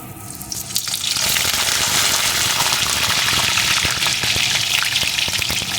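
Cut potato pieces drop into hot mustard oil and set off a loud, steady hiss of frying with crackling pops that continues close by without any voices.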